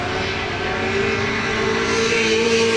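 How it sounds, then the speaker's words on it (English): A Pro 2 off-road race truck engine roars steadily at high revs during qualifying in Texas, its exhaust note loud and sustained with a slight rise in pitch toward the end. "Listen to that exhaust note, man."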